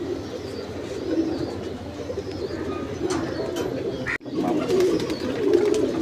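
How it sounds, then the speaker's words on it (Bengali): Pigeons coo steadily at a large pigeon farm holding over a thousand birds, a dense chorus of soft overlapping calls that stays fairly loud throughout, with occasional flutters and brief sharper sounds. "হাজারের উপরে কবুতর আছে।"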